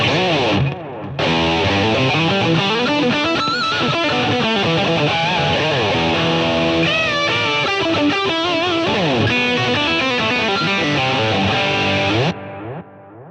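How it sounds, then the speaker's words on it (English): An electric guitar plays a melodic line drenched in reverb and echoing delay, notes ringing and repeating into a wide, washy tail. "we've got a good reverb, that sounds great, but let's add in a bit of delay"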